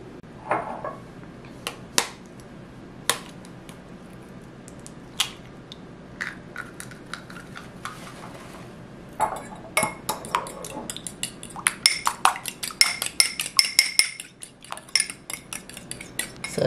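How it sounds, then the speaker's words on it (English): Egg beaten with a utensil in a bowl: sparse clinks at first, then a quick run of rhythmic tapping and scraping against the bowl, close and fairly crisp. "So let's crack this egg and start beating it."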